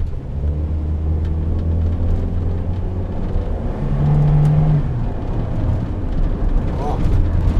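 A 2010 VW New Beetle with a 2.0 8-valve engine rolls over a speed bump, heard as a loud, close, steady cabin rumble with a mild rise in engine tone partway through, while someone talks over it.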